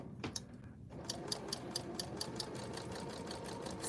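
A serger stitches fabric while its cutter trims the edge, starting after a brief quiet moment into a fast, steady mechanical whir with rapid regular ticking, close and moderately quiet.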